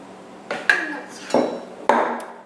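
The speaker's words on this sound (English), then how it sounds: "And you just spread that batter out in your pan." Bread batter being spread in a stoneware pan produces several sharp scraping knocks of a utensil against the dish, each ringing briefly before the next stroke, loud and close with no talk.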